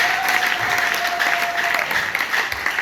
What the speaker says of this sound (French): acclamons un peu pour la voix de Seigneur